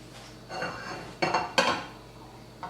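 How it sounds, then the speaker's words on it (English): Uba Mochi pancake mix being stirred with water in a bowl, with soft scraping strokes and a few sharper clinks of utensil against the container, no talking. "After you put water, you need to mix it all up like this"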